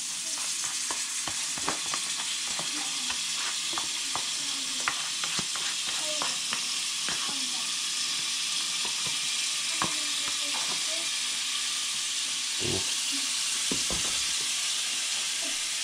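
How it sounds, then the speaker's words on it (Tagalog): Butter melting in a hot frying pan gives a steady, bright sizzle with scattered pops and crackles throughout, alongside occasional stirring clinks and faint background voices. "medyo mainit na yung kawali natin. Lagyan natin siya ng butter."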